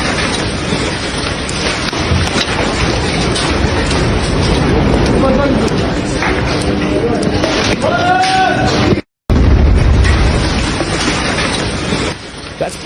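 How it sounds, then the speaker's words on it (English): An airstrike out of Dirabala rumbles amid a steady roar of noise, with a short cut to silence followed by a deep, heavy blast. "Here's another airstrike coming at you guys out of Dirabala."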